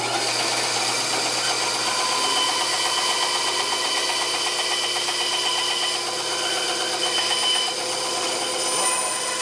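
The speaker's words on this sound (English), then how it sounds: "I'm just going to cut off a section of this dowel I turned" A section is cut off a turned wooden dowel, making a steady, close, continuous rasping cutting noise with a fine rapid texture that runs unbroken throughout, with no talking.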